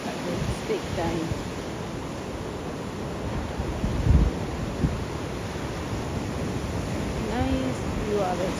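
Sea waves washing in at sunrise under a cloudy sky, a steady broad rush of surf mixed with wind noise, with one brief low thump midway.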